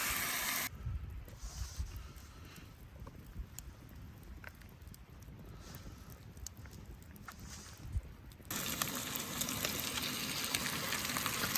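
Onions, hot Italian sausage and jalapeno with Southwest spices sizzle in a pan at a truck-cap campsite, a steady close frying hiss with occasional scrapes and a louder stretch near the end.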